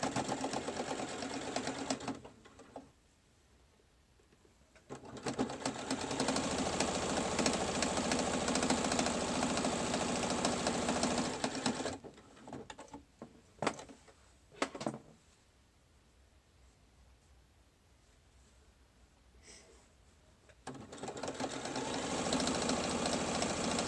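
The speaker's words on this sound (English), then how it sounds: "Now we're going to top stitch the whole thing." A sewing machine top-stitches a fabric surgical cap in sustained runs of steady mechanical whirring, pausing twice for quiet stretches before starting up again, close and clear.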